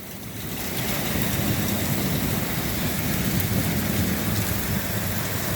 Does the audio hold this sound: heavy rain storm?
yes